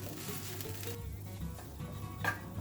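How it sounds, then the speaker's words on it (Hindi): Chopped capsicum and tomato cooking in a pan over a high flame, a moderate sizzle with low rumble and occasional stirring scrapes, fairly quiet and unbroken. "अब इसी पैन में हम डालेंगे आधा कटा हुआ शिमला मिर्च और आधा कटा हुआ टमाटर। अब इन सबको हम 1 मिनट के लिए हाई फ्लेम पे पका लेंगे।"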